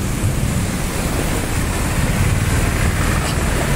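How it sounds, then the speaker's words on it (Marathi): Heavy downpour in Viman Nagar, Pune, a dense, steady roar of rain that stays loud and unbroken throughout, with a deep low rumble underneath and no voices. "आता अचानक पाऊस आलेला आहे"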